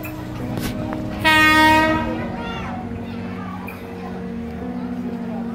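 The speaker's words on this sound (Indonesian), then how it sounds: "Kereta KAIS 3 sudah tiba di stasiun Jarum" A KAI inspection train pulls into Garut station on the Cibatu–Garut line. It gives one loud horn blast of under a second over a steady rumble of rolling wheels, and people talk nearby.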